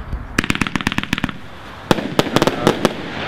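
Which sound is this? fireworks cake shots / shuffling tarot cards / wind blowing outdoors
fireworks cake shots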